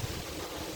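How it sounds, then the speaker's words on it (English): Wind buffets a microphone outdoors, a low, steady rumbling roar with no voices, brief and moderately loud. "Sorry, it's a bit windy here."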